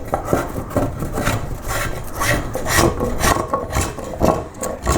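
Steady rasping strokes of a carving tool smoothing and rounding a wooden koi carp body, continuous close scraping and rubbing with a quick, even rhythm, loud and without talk.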